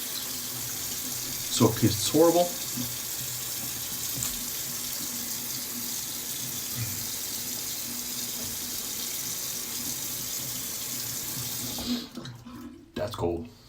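Cold water runs steadily from a tap for a rinse after a wet shave, a constant close hiss that fills the clip, with a short spoken remark near the start and splashing and handling noises toward the end.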